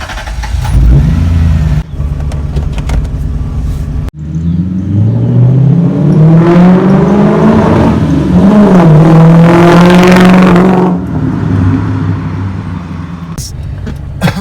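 A modified V8 in an Isuzu KB 400i van drives and revs, a loud, continuous engine roar that climbs in pitch through several hard accelerations, with brief drops between gear changes.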